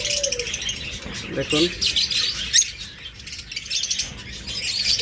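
Pet birds in a sale display chirp and tweet in quick overlapping bursts, close and lively, with a few squawks, while someone speaks briefly among them.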